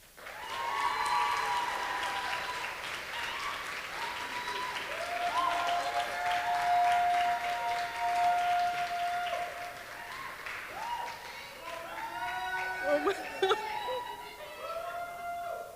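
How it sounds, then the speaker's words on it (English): An audience applauds at a food pantry end-of-year banquet, sustained clapping with a few whoops and cheers rising near the end, moderately loud in the room. "Let's give a round of applause for Princey Patel"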